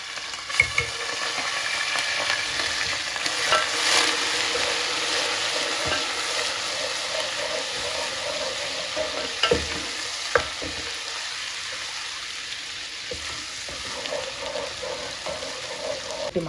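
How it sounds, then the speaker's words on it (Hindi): Ginger garlic paste fries with onions in a pan, a steady loud sizzle broken by scraping stirs and occasional knocks of the spoon, continuing throughout with little talk. "अब डाल देंगे अपना अदरक लहसुन का पेस्ट।"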